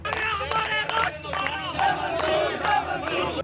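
Hundreds of people on a night-time torch-lit protest march through the streets of Muzaffarabad shout slogans together in loud, rhythmic bursts of chanting, with overlapping voices and crowd noise throughout.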